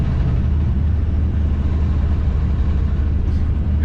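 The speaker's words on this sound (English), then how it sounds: "How much diesel fuel is that Duramax gonna burn sitting there idling, waiting for that chicken?" Loud, steady low rumble of a Duramax diesel pickup truck engine idling nearby, a continuous drone with no talk over it.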